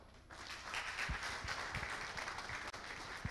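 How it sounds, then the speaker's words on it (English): Audience clapping at the close of a talk: a soft, fairly distant patter of many hands with a few sharper, louder claps close by, sustained and even. "Let's keep clapping, let's keep clapping."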